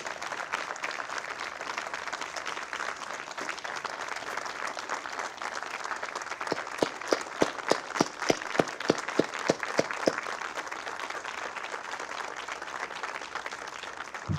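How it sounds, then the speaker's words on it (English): A crowd at a September 11th remembrance ceremony applauds steadily for firefighters, police and city workers, with a stretch of louder rhythmic clapping in unison partway through before settling back into general applause. "give our firefighters, our police officers, our city employees and school employees a round of applause."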